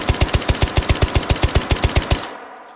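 A gun in the H3VR VR shooter is fired held like a pistol, letting off a loud, rapid, evenly spaced string of about seventeen shots that cuts off abruptly, with no talking.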